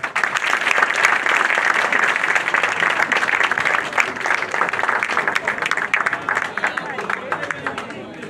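An audience applauds steadily for a dignitary at a gathering, dense sustained clapping with crowd murmur, moderately loud and continuous.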